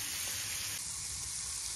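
Thin-sliced meat sizzles on a Blackstone flat-top griddle, a steady close hiss that continues evenly with no talking.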